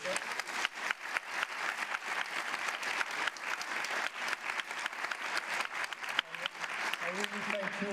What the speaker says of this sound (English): thank you for applauding her